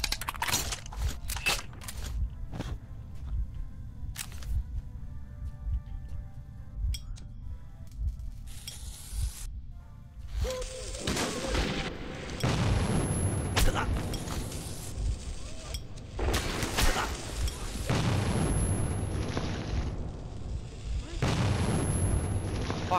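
Grenades blast in Metro 2033 as a series of heavy booms and sharp impacts, scattered and loud, with clinking debris between them, over tense game ambience.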